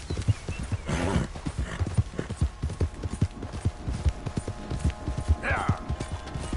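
Horse hooves clip-clop in a quick, steady rhythm close by, with a brief whinny near the end and a rider urging the horse on.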